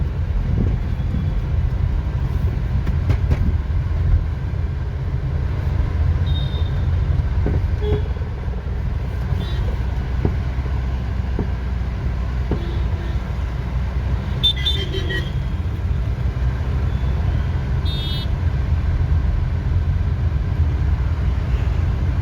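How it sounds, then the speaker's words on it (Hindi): Honda City ZX 2006 with worn suspension driven over potholes, a continuous low road rumble with scattered knocks and rattles from the chassis, no talking. "जब गड्ढों में हम गाड़ी को चला रहे थे ना, तो कैसी नॉइज़ आ रही थी"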